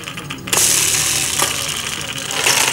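A children's magic cube toy gives off a bright electronic sound when pressed, starting abruptly after a short quiet moment and carrying on as a hissy, buzzing tone with a couple of brief accents.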